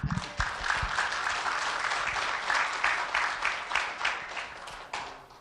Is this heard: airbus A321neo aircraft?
no